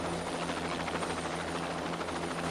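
Private Jet Ranger helicopter in flight, a steady, loud rotor and turbine roar with a constant low thump, continuous and close, with no voices.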